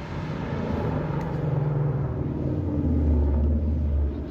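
Rumbling race car engine, a TrapBlazer at a racing event in Mexico, deep and steady at moderate distance, swelling slightly louder toward the end before easing off.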